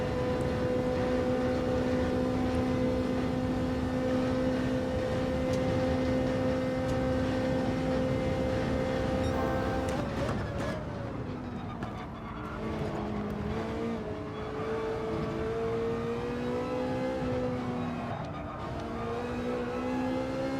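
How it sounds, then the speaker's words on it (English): A race car engine in a Gran Turismo 7 Manufacturer's Cup race holds a loud, steady high-pitched drone, then its pitch drops and climbs again as the car shifts and revs back up through the lap. "I think we can rev this guy out a little bit now"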